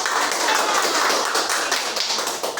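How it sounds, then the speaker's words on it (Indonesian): Congregation at a Monday church service clapping hands together, a dense, steady patter of many hands lasting the whole stretch without talk. "kita tepuk tangan dulu"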